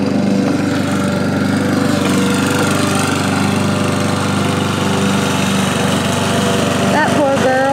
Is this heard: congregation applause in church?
no